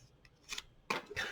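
Scissors trim a faux Valentine cupcake decoration in a few quick, crisp snips close by, with the last two cuts louder than the first.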